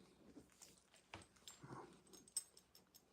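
A dog whimpers and whines softly in short, irregular bursts, faint and close, with a few small yips and no talking.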